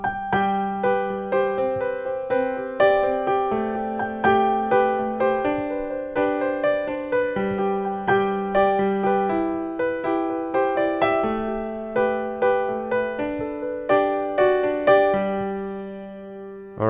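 Solo piano plays the flowing intro of a song, steady repeated chords over low bass notes, clear and close with no voices.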